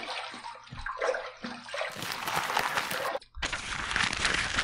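Running water rinses a razor during a wet shave with a scuttle and sink, a broad steady splashing rush that swells loud, breaks off briefly, then pours on strongly.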